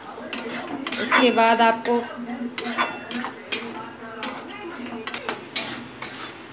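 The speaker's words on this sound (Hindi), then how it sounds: "फिर टमाटर को इसके साथ अच्छी तरह मिक्स करना है" Metal spoon scraping and clanking in a pan while ground tomatoes are stirred into chole masala, a steady run of close scrapes and knocks with someone speaking briefly over it.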